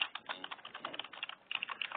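Fast typing on a computer keyboard during a web development coding session, a quick uneven patter of close, light key clicks with short pauses, no voices.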